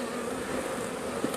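Honey bees buzz steadily around hive boxes during a honey harvest, a dense close swarm drone holding level throughout with no voices.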